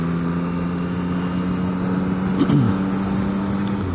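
A Yamaha XSR 700 motorcycle engine runs under light throttle, a steady close low drone with a slight swell in pitch and loudness midway, no voice over it.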